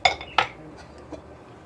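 A utensil knocks against a pot twice while rice is stirred, two bright metallic clinks close by followed by softer scraping and a faint tap.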